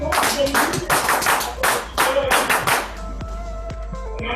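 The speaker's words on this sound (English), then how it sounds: "Let's give our classic 10 clap to 10, which goes 1, 2, 1, 2, 3 twice." A room of entrepreneurs performs a rhythmic group clap in a set pattern, bursts of unison claps in two repeated phrases, loud and close, then trailing off into a few scattered taps and room noise.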